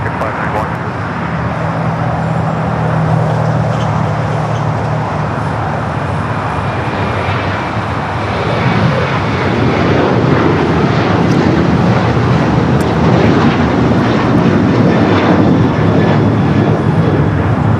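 An American Airlines jet takes off from runway 25 right at LAX. It begins as a steady engine roar that swells louder about halfway through and then holds. Air traffic radio and voices sound under the noise.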